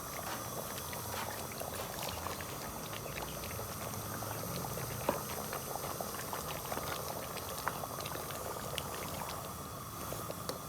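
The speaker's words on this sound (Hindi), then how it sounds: "ये देखिए प्याज शामिल कर दिए और इसको 5 से 10 मिनट तक अच्छी तरह भून लेते हैं ताकि प्याज नरम हो जाए" Onions frying in spiced masala for chicken karahi give a steady, dense sizzle and bubbling that runs evenly throughout, close and moderately loud, with no talking.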